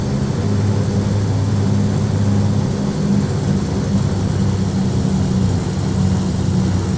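Default AI aircraft engines in the X-Plane 11 flight simulator hum steadily, a loud, even low drone of propeller and engine noise that holds unbroken throughout, with no voices.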